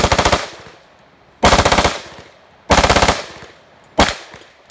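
An M-16 rifle fires four loud, close bursts on full auto, each a rapid rattle of shots with a sharp onset and a short ringing tail, separated by brief pauses.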